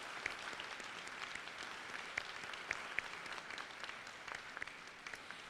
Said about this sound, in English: So one more nice round of applause for the singers this evening.